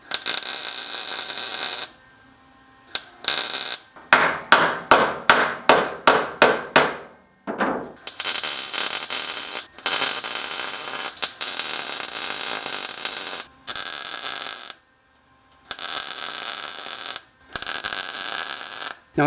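Spot welding on the quarter panels of a vintage Porsche 911 S produces loud, close, harsh buzzing bursts. A quick series of short zaps is followed by longer sustained crackling stretches, with silent gaps between them.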